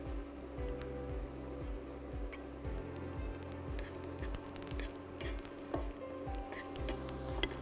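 Onions sautéing with turmeric in a pan, a steady close sizzle and crackle of frying throughout with a faint rhythmic low hum underneath.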